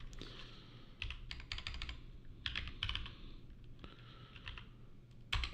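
Steady typing on a computer keyboard during game engine programming in C, with clustered bursts of key clicks over a low background hum, fairly close and moderately quiet.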